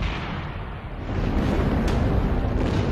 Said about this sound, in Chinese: 突然之间，炮弹从天而降，巨大的爆炸声震撼了海峡两岸